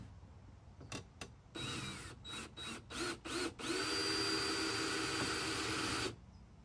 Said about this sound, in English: I'm actually going to have to just drill the whole thing out.